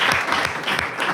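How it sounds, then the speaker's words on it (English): Podcast studio audience applauding Sir Grayson Perry, a brief close burst of clapping with a few distinct hand claps standing out from the crowd. "A round of applause for the one and only Sir Grayson Perry, everybody"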